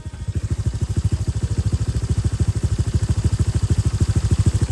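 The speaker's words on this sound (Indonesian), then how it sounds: "Suara langsamnya jadi kayak gitu ya." Modified Honda Vario 150 scooter engine idling alone at close range, a steady fast low putter with even rhythmic pulses throughout.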